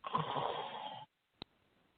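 One long rough snore with a raspy, vibrating rumble, followed by silence and a brief faint click.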